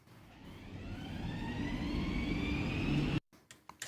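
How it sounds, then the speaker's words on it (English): A frequency sweep effect for a logo sound design: tones climb steadily over a noisy wash for about three seconds, then cut off abruptly, leaving a few faint clicks. "So I added in a frequency sweep, and it sounds like this."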